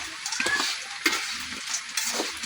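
Peanuts rattle and sizzle softly in a pan over low heat, stirred in short scraping bursts with light clicks against the metal.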